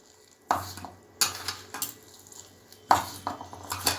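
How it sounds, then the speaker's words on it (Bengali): Prawn chop mixture with salt being mixed in a bowl, heard as a few close, distinct bursts of squelching and scraping separated by brief pauses, with no talk. "এবার আমি এটাকে ভালো করে মাখিয়ে নেব"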